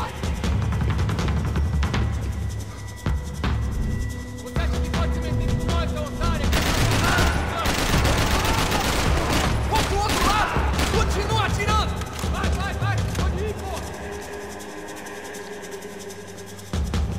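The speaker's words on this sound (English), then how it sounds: "Somebody is shooting at me." Gunfire in the video game Max Payne 3 crackles in rapid bursts and fusillades, with heavy booming shots and thuds layered over continuous game noise, mixed with a voice talking.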